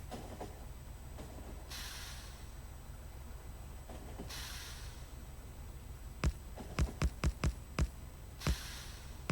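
Rumbling, hissing Factorio game train running along its tracks, a steady low drone swelling in bursts, then a rapid series of sharp clacks toward the end.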